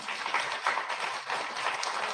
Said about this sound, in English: y'all give Jeff a round of applause